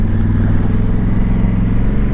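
A 2021 Honda Africa Twin 1100 Adventure Sports, a 250 kg adventure motorcycle, drones steadily while being ridden. Its engine note holds a close, loud, even hum with no talking.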